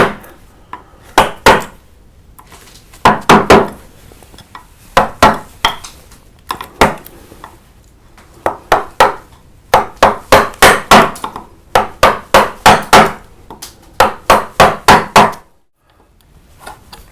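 A mallet strikes a carving gouge cutting into wood, shaping leaf and vein detail on a carved Green Man face. Crisp, close knocks come in quick bursts of three to six, separated by short pauses, with no talking.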